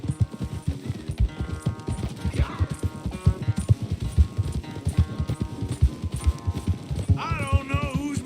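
Horse hooves galloping in a race in Red Dead Redemption 2, a rapid, rhythmic clip-clop pounding close up, with a brief whinny near the end and some game music underneath.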